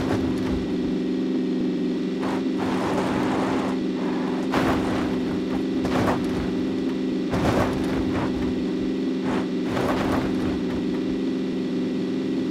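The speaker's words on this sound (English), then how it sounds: "So I hear another car rolling up." A car engine drones steadily in PUBG, a loud continuous hum with bursts of higher noise, as another vehicle rolls up close by.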